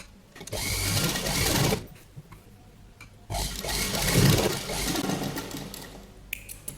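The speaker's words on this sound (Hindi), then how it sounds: "ऊपर एकदम किनारे यहाँ पर हम सिलाई लगा लेंगे" A sewing machine stitches the edge of a padded katori blouse in two runs, a close whirring drone for over a second, a pause, then a longer run of about three seconds.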